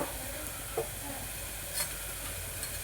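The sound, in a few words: ground paste added to sizzling pan for mushroom pulao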